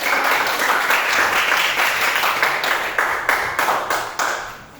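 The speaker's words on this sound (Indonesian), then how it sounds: "Berikan tepuk tangan." Classroom audience claps after a group presentation, a dense burst of applause that thins toward the end into fewer, more distinct hand claps.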